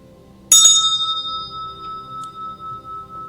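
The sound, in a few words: meditation bell ringing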